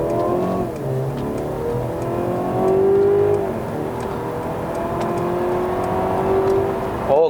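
A Mercedes-Benz C300 W206 AMG Line with a twin-scroll turbo engine at full throttle on a Malaysian road, heard from inside the cabin: a steady engine drone climbs through the gears and swells loudly around the middle, with no talking.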